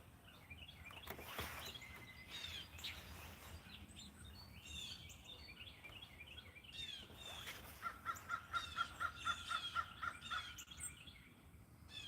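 Birds calling outdoors at dawn, with a crow among them; varied chirps and calls scattered throughout, and a quick run of repeated, evenly spaced calls near the end, moderately distant.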